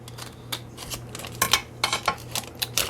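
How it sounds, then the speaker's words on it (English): Scissors snip through a paper narrow-window envelope up to its fold mark, giving a run of short, crisp cuts that start sparse and grow denser, close up, with a low steady hum underneath and no talking. "we're going to go ahead and cut up to the fold mark"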